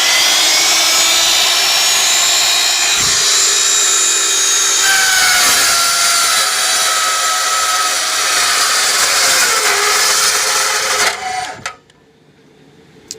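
A power tool grinds through metal for a coal forge build, a loud, steady, high-pitched screech that runs for about eleven seconds, then cuts off abruptly into near silence.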